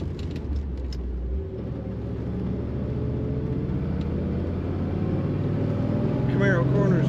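A 1979 Chevrolet Camaro Z28 drives through corners, its engine a steady low rumble with continuous road and tire noise throughout, swelling slightly near the end; a voice speaks faintly over it.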